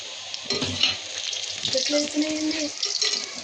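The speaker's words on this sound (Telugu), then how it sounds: "ఆయిల్ వేడెక్కినాకనైతే అన్నీ ఇలా వేసుకొని రెడ్ కలర్ వచ్చేదాకా వేయించుకోవాలి" Gulab jamun balls sizzle and bubble in hot oil with steady frying crackle and occasional stirring clinks, while a faint voice talks in the background.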